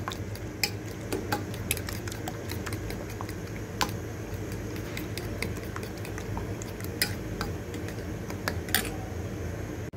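Two eggs being beaten in a bowl with a hand whisk, a steady run of quick light clicking and tapping against the bowl, close and fairly quiet, with no talk over it.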